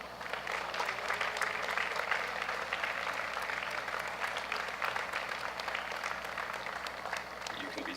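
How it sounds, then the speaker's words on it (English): Crowd applause at a Dinner in White 2017 charity dinner, a standing audience clapping steadily and evenly for the whole stretch, with a faint low hum underneath. "so if you would all give your hand a round of applause"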